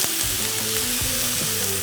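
Onions fry in a pan for an avocado burger, a loud, continuous sizzle and crackle with a few stirring scrapes, close and with no talk.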